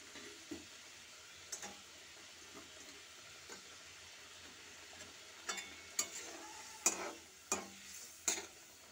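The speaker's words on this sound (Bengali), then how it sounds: "দেখো ঝোলটা ফুটে গেছে, আমি এবার মাছগুলো দিয়ে দিচ্ছি" Parshe fish pieces go into a boiling curry gravy, giving a steady low simmering hiss with soft, scattered clinks and splashes, then several sharper clatters and bursts of sizzle toward the end. No voices are heard.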